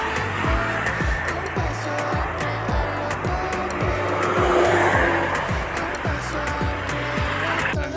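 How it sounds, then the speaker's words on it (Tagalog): A jeepney on a road during the Kadayawan Festival in Davao rumbles steadily with a rhythmic, throbbing engine beat, close and fairly loud, with some voices in the background. "Mayroon ng jeep yan papunta."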